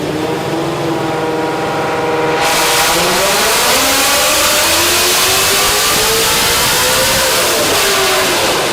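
A Procharger-supercharged Ford Mustang S650 running on ethanol-blended fuel makes a loud, steady dyno pull. The engine roars continuously and its pitch climbs smoothly as revs build across the full pull, with no talk.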